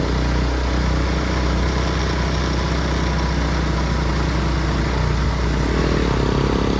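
A motorcycle engine labours steadily uphill on a sloping road, a loud continuous low drone with wind rush and little change in pitch, heard up close from the rider's position.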